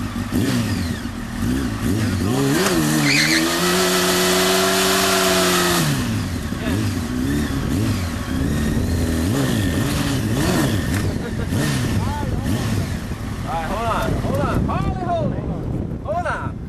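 A motorcycle engine revs hard during a burnout attempt, its loud droning pitch climbing and holding before dropping back. Repeated throttle blips follow under steady wind noise and outdoor rumble.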